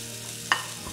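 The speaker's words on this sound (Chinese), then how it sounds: "首先咧就要煎香啲菜蔬先" Vegetables fry in a pan as the first step of Vietnamese beef pho. A soft sizzle runs under a brief stir or scrape partway through, and the whole sound is close and quiet.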